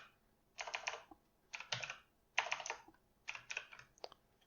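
Bursts of rapid typing on a computer keyboard, four separate flurries of clicking keys with short quiet pauses between them, close by.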